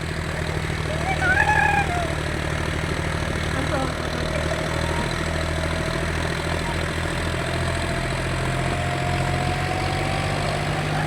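A tractor engine runs at a steady idle outdoors, a continuous low, droning hum with a faint rhythmic knock that holds evenly throughout.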